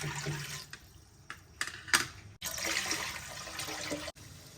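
Water is poured from a vessel into a cooking pot on a stove to boil half a kilo of dal, coming in uneven splashy bursts with short pauses, and one louder steady gush near the end.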